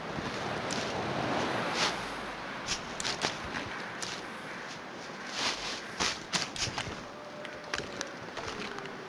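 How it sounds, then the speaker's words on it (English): Steady wind rushing through the whole stretch in the video game The Long Dark, gusting early then easing a little, with scattered crunchy footsteps and clicks over it. "Sounds like the wind is dying down."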